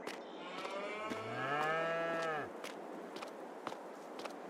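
A cow moos once in Farming Simulator 22 on the Lorsen map's starting farm: a single long, loud, rising-then-falling bellow at close range, lasting about a second and a half, with faint farm ambience and light footsteps before and after.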